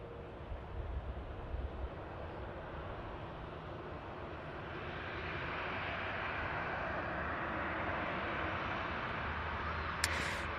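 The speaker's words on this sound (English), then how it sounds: "Gulf Air Dreamliner." A Gulf Air Boeing 787 Dreamliner roars as a steady, broad jet rumble at an airport, building slightly and holding throughout, with a brief sharp click near the end.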